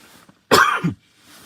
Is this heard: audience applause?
no